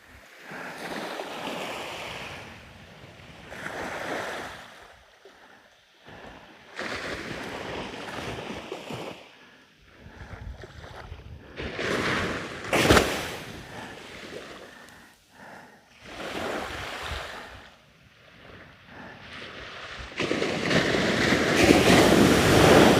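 Ocean waves crash and wash onto an Australian surf beach during shore fishing, rising and falling in repeated broad surges with gusty wind noise, the loudest swell arriving near the end.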